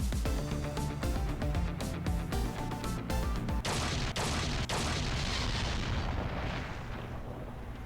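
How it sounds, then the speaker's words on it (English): Explosion in the Ghost Trick video game: a dense, continuous roar of blasts and crashing debris, loud throughout with sharp bangs layered over low rumble, gradually thinning toward the end. "I think I heard an explosion somewhere."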